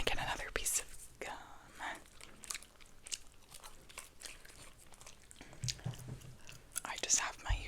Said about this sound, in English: I think that I'm just gonna get another piece of gum